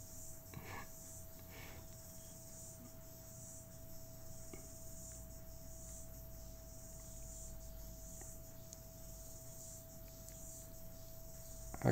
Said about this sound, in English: You hear the cicadas outside, they're going bananas.